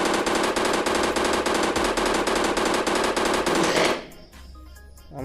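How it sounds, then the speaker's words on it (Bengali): Rapid automatic gunfire from a weapon in a 3D zombie video game, a loud continuous burst of evenly spaced shots that stops abruptly, leaving quieter game noise. "বন্ধুগণ দেখতে পাচ্ছেন, এই বন্দুক ভালো না।"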